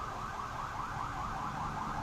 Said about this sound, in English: Maybe it's an ambulance.